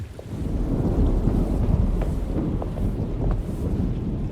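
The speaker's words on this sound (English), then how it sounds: "Looks like a storm's coming." A thunderstorm with rain from the video game Alone in the Dark fills the scene with continuous low rumbling and a dense, steady roar of rain and wind, loud and enveloping, without voices.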